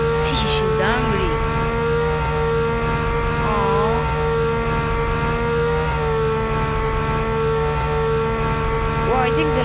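A Ferrari engine drones in a racing video game, a steady loud high-revving tone holding almost unchanged throughout with brief pitch shifts from gear changes, while a voice talks over it.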